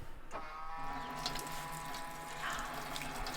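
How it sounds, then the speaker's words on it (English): Hot water runs from a tap in a Ford Transit Custom Nugget campervan, a steady faint rush and splash with a humming tone, with no voices. "I'd just like you to try that tap for me"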